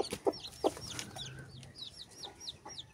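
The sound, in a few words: clucking native chickens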